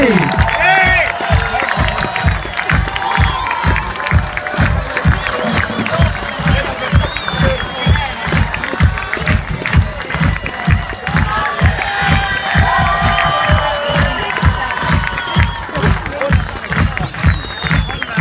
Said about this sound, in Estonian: Come on, publik, aplausi!